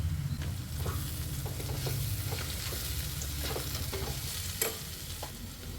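Spice powders, among them chilli, turmeric, garam masala and coriander, fry for a Kerala prawn masala with a loud, steady sizzle, punctuated by repeated stirring scrapes in the pan.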